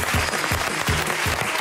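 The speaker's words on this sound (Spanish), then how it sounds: "Un fuerte aplauso para Laura, por favor." Studio audience on a Spanish TV entertainment show applauding loudly and continuously, a close, dense wash of clapping with a rhythmic pulse running through it.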